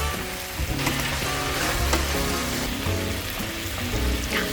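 Stir fry sizzles and crackles loudly in a hot pan with leftover rice, a dense continuous frying hiss with occasional stirring clatter close by.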